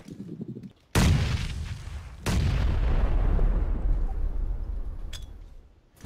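A grenade blast in the battle-royale shooter PUBG lands as two loud, sudden booms about a second apart, each followed by a long rumbling decay, with faint voices before the first hit.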